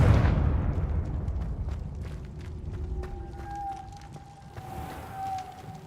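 A Confringo blasting-spell explosion in Hogwarts Legacy lands as a loud, deep burst at the start, then rumbles and decays under scattered crackles and a thin tonal whine.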